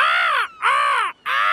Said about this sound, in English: The cheeky seagulls are eating Grandpa's raspberries.